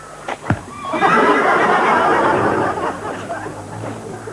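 A horse's whinny rises and trails off at close range, a loud breathy neigh lasting a couple of seconds amid faint background noise.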